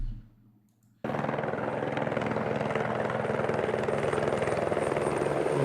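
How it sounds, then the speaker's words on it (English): A customs helicopter flies at the US/Mexico border in Arizona, its loud rotor chop and engine drone bursting in after a quiet second and then holding steady and close. "Customs helicopter in action"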